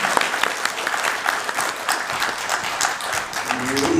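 Audience applause following a speech at a Korean memorial lecture, dense and steady clapping from a large crowd filling the whole stretch at even loudness.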